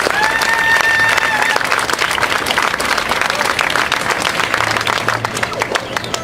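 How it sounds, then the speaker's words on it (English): Loud, close audience applause with scattered cheers fills the hall after the announcement of a Nobel Peace Prize win, sustained dense clapping, a voice briefly heard near the start. "That clap was for yourselves"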